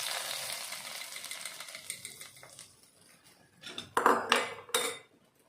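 A spoon scrapes and clatters against a pot of vegetable biryani, starting as soft continuous stirring and ending in a few louder metallic knocks near the close.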